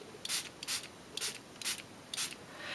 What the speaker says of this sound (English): I'm going to go ahead and spray this with a little spray bottle